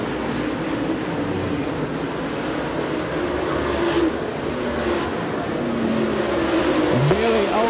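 Race cars run side by side on the Smoky Mountain Speedway during the Southern Nationals bonus race, a continuous loud engine roar heard from a distance with a faint commentary voice beneath it.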